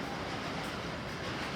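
A model train runs steadily along a layout at a model railway show, giving a continuous close rumble and rolling clatter with no pauses.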